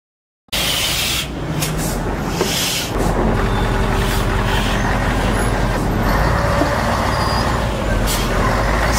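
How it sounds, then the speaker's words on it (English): A school bus rumbles along steadily and loudly up close, its heavy engine drone running continuously with brief higher mechanical hisses, and no voices are heard. "School bus."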